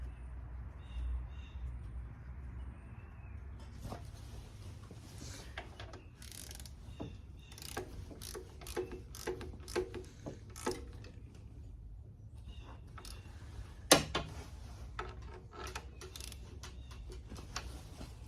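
Ratchet clicks in short bursts as power steering bolts are cranked down on an Acura TSX, close and fairly quiet, with scattered metallic taps and clanks between strokes and no talk.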